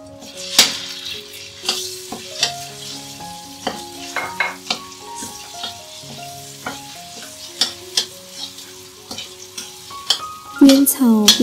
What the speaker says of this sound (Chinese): 边炒边加入切碎的咖喱叶和风干叶